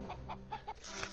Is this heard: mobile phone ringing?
no